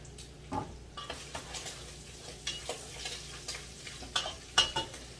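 Bacon sizzles faintly in a pan, a quiet bed of soft crackle broken by scattered small pops and occasional scraping stirs.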